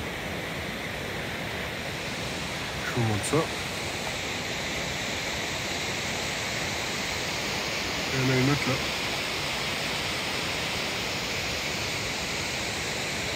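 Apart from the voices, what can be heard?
Shdugra waterfall in Svaneti, Georgia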